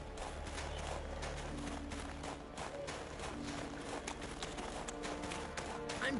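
A horse gallops in The Witcher 3 video game, its fast steady hoofbeats running continuously and fairly quietly over game ambience.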